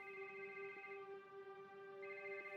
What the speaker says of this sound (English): When the phone finally rang,